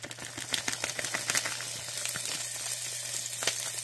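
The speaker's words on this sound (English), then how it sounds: "it should be nice and hot for us to go ahead and at least toss our ground beef in" Ground beef sizzling in a hot skillet, with a steady close crackle and a few sharper pops and clicks layered over it.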